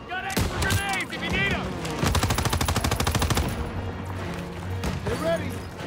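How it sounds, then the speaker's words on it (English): Rapid machine gun fire from the video game Call of Duty WWII rattles out in a tight, evenly spaced burst through the middle, with shouting voices before and after it. "Come on, they need cover fire! Suppressive fire! Keep firing!"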